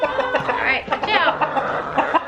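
Farm chickens cluck and chatter in quick, busy bursts close by, several birds calling over one another during morning chores.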